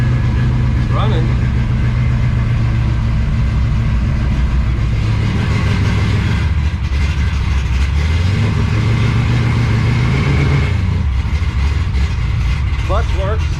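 A 1967 Ford Mustang road-race build idles steadily on jack stands in a garage, a continuous low rumbling drone with a slight rise and fall in pitch partway through, loud and close throughout.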